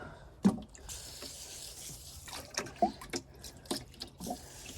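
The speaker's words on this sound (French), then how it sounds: "je vais venir arroser chez les tortues, comme ça sera moins poussiéreux et moins chaud" Water poured to wet down a tortoise enclosure, heard as a continuous soft splashing wash with intermittent louder splats and drips at close range.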